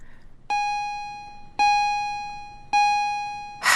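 A school bell rings three times in even succession, each a bright, clear electronic ding that fades slowly, loud and alone over a quiet room.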